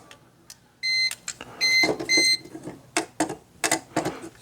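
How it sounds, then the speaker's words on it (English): A handheld voltage tester switched on before checking a hardwired security light's wiring gives several short, clear electronic beeps, some in quick pairs, mixed with small handling clicks. "just got my voltage tester. Turn it on."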